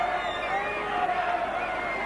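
A big stadium crowd at a Wigan versus Widnes rugby league cup match in 1988 keeps up a steady, distant roar and murmur throughout, with a voice faintly audible over it.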